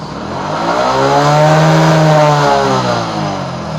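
A motorcycle engine is revved to full throttle during a regulator-rectifier voltage check, rising in pitch to a loud sustained close-up whine for a couple of seconds and then easing back, with no voices.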